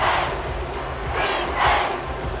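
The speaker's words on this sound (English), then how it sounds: "the crowd getting into it as we come up on a big 3rd down" A stadium crowd in Madden 24 roars and cheers ahead of a big third down, a broad, sustained swell of many voices that rises and falls in waves.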